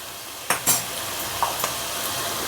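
Onions and green chilies fry in a pan with a steady soft sizzle, broken by a couple of metal spoon clinks and scrapes against the pan.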